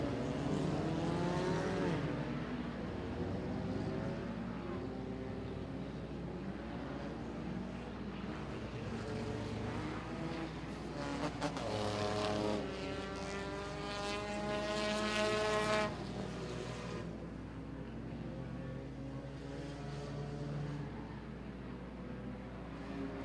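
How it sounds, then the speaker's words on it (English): Race cars roar around an oval dirt track during a 100-lap enduro at Lancaster Motorplex, a dense pack of engines droning at a distance, with one louder car sweeping past midway. "a slew of cars coming off turn 4 and onto that front straightaway"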